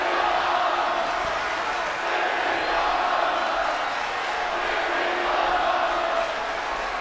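A large arena crowd in the WWE 2K23 wrestling game roars continuously, with dense cheering and shouting holding at a loud, steady level from start to end.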